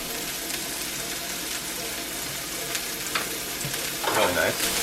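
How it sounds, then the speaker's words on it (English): Seasoned beef patties with bacon fry in a cast iron pan, a steady close sizzle and crackle running throughout, with a brief scrape or shuffle near the end. "My seasoned patties frying up nicely."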